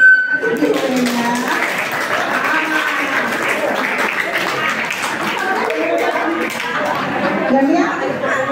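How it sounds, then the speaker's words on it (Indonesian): A school audience at a high school roadshow claps for a student, loud continuous applause mixed with chatter and voices throughout. "Oke, Daniel, kita beri tepuk tangan dulunya."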